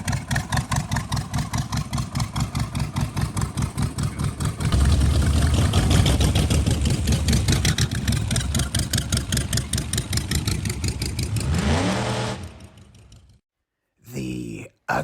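Loud, close engine of a dragster-style show car, Barris-type custom, idling with a steady throbbing rumble that swells into heavier revving before cutting off abruptly, followed by a short burst of sound.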